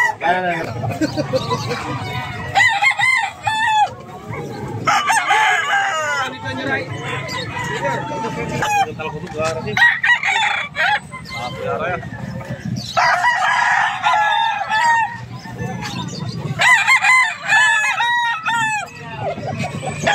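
Roosters crowing repeatedly at a Saturday-morning chicken market in San Carlos, Pangasinan, several loud overlapping calls near and farther off, with clucking and people talking throughout.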